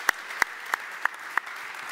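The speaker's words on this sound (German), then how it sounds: "dann denke ich, wir können das Ganze mit einem Applaus beenden hier." Five slow, evenly spaced claps at the close of a talk at a smart farming event, sharp and isolated over a quiet room, with no wider applause.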